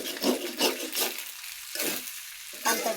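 Eggs frying in a cooking pot, with a steady sizzle and recurring bursts of stirring and scraping that swell and fade every half second or so.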